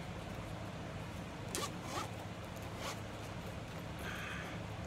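A few short, scratchy zipping rasps, close and quiet, as a small zippered jewelry box is unzipped in brief strokes against a soft background hiss.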